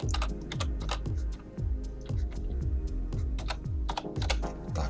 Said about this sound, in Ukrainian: Пишемо regedit.